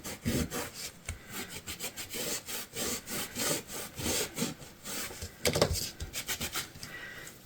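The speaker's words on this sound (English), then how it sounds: "I am just gonna use my little microfiber cloth and get all that laser schmutz off" Microfiber cloth rubs briskly across laser-engraved coasters in quick back-and-forth strokes, a close, rhythmic scrubbing hiss with steady repetition and no talking.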